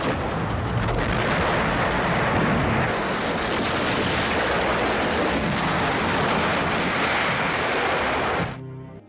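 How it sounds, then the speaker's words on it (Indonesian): Soviet T-34 tank artillery bombarding Berlin, heard as a loud continuous roar of blasts and rumbling fire that fills the scene for about eight seconds before cutting off abruptly. "konvoi tank T-34 masih membombardir Berlin"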